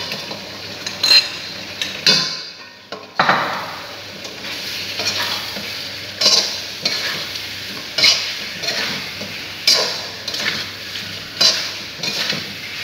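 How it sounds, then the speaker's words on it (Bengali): Chicken pieces going into hot spiced oil sizzle and fry close by, with repeated clinks and scrapes of a utensil stirring the pan at a steady rhythm, and no talking. "মশলা থেকে তেল ছেড়ে দিয়েছে, এবার চিকেনটা দিয়ে দেব।"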